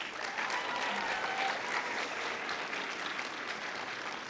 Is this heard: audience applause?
yes